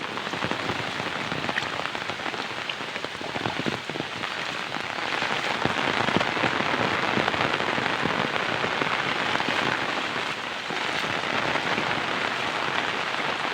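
Heavy monsoon rain pours steadily onto surfaces around a flooded home garden, a dense unbroken hiss that stays loud and even throughout with no voices.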